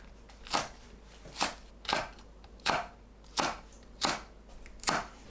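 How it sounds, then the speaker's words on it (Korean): A knife slices green onion and cheongyang chili peppers diagonally on a cutting board, seven crisp evenly spaced chops, close and fairly quiet, with no talk. "파, 청양고추는 어슷 썰어주세요."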